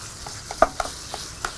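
Meat and fragrant shallots stir-fried in a pan, a soft sizzle under sparse scraping taps of a utensil, a few sharper clicks spaced irregularly, close and fairly quiet with no talking.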